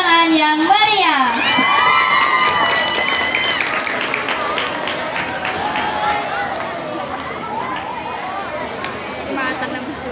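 Students at a school OSIS council candidate debate cheer, shout and applaud loudly as a candidate pair is introduced, a dense continuous crowd roar with children's high shouts that stays strong throughout, with voices mixed in.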